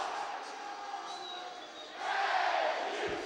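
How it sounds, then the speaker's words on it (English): Crowd roars and cheers at a college ice hockey game between UK and Lindenwood after a goal in the first period, a steady broad wash of voices swelling louder toward the end, with no talk over it. "And the crowd is alive tonight"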